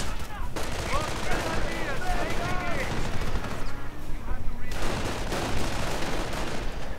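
MP40 and MG42 gunfire in a Company of Heroes-style World War II strategy game, dense overlapping rattling bursts and distant booms filling the mix while a commentator talks over the battle.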